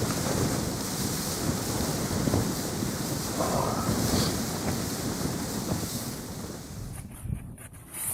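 Strong wind sweeps a snowy hilltop at a wild camp on Nine Standards Rigg during a freezing snow storm, a steady loud rushing roar with gusty buffeting on the microphone that eases slightly near the end.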